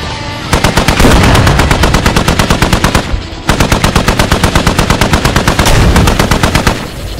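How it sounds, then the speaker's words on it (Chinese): Rapid machine gun fire from an M1 Abrams tank in the video game Squad rattles in two long, loud, evenly paced bursts separated by a short pause. "你机枪直接按住，不要出手，直接能扫他"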